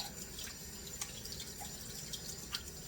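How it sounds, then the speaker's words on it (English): Water runs from a kitchen tap while hands are washed during baking, a steady soft hiss with a few light drips and splashes, fairly close and without talk. "Wash my hands."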